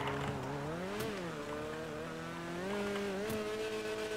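Cheburek car in GTA 5 clutch-kick drifting, with a steady engine drone rising and falling in pitch as it revs, overlaid by continuous tire squeal and a couple of sharp bursts, loud and close throughout.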